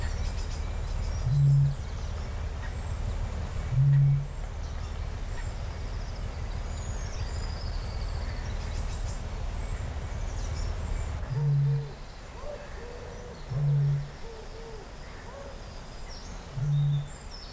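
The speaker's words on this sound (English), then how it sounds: "Bittern, Botorus stellaris," A Eurasian bittern booms in a wetland, five deep hollow hoots spaced a few seconds apart, moderately distant over steady low ambient noise.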